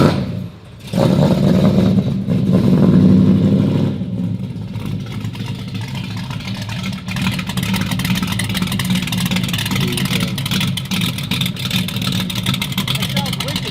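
A 1966 Ford Mustang barn find, originally a 289 V8, starts cold after a brief sputter and then settles into a steady, throaty idle that runs close and loud while people talk over it.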